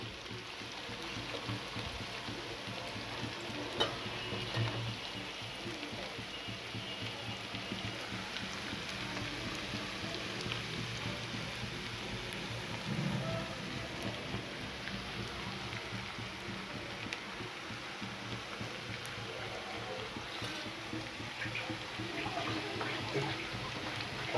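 Onions frying in a little oil until reddish brown, a steady soft sizzle like light rain that runs evenly throughout, fairly faint and with no talking.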